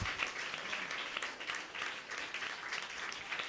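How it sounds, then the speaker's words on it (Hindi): A church congregation claps and cheers loudly for the Lord during a sermon on Joshua chapter 6, a dense, steady wall of applause that fills the whole stretch without a break. "कम ऑन, जोरदार ताली प्रभु के लिए।"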